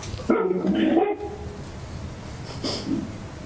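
A dog barks during an online finance committee meeting: a close burst of gruff barks early on, then a short, softer bark a moment later over quiet room tone.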